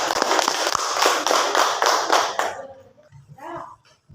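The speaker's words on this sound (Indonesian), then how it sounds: "Tepuk tangan untuk kelompok Pak." A classroom group claps together for a presenting group, brisk rhythmic clapping that stops abruptly partway through, followed by a few faint voices of children and adults in the room.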